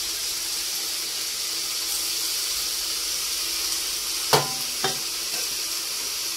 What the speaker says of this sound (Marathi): मी आता ह्याच्यामध्ये पनीर घालतेय.